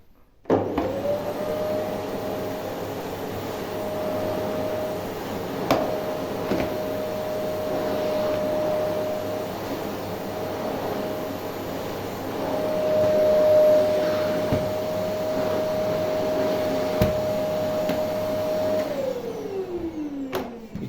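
A Samsung Twin Chamber System VCC45W0 vacuum cleaner drones steadily and close for about twenty seconds, its motor whine holding a constant pitch, swelling slightly midway, then winding down at the end.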